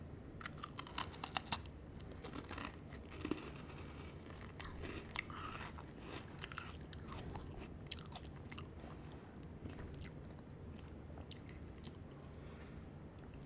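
Crunching and chewing on freeze-dried peach ring candy, crisp brittle bites and soft mouth sounds close to the mic, steady throughout with no talking.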